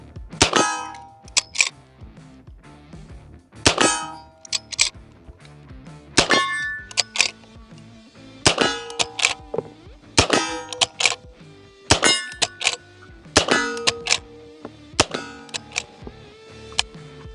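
Winchester Model 1866 lever-action rifle firing in Red Dead Redemption 2, with sharp metallic cracks and clanging lever cycling repeated about nine times at a steady rhythm, loud and close, with no talk.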